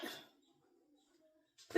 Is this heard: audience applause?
no